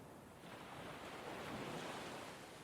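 Ocean waves wash steadily onto a beach, a continuous broad roar of surf with some wind noise, swelling slightly midway and holding at a constant moderate level with no voices.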